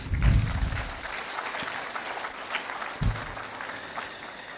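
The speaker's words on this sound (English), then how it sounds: "another round of applause for him." A lecture audience at a presidential commemorative event claps in a dense, sustained round of applause, moderately loud and continuous, with a few low thumps near the start and midway.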